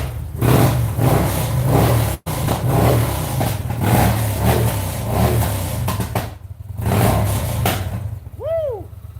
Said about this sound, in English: it does have a Victory performance exhaust.